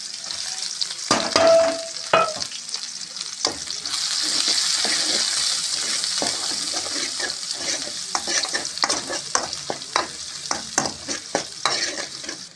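Dried red chillies frying in hot oil for a boiled egg curry, a loud sizzling hiss swelling after a few clinks and a tap splash, then rhythmic stirring scrapes pulsing through the sizzle.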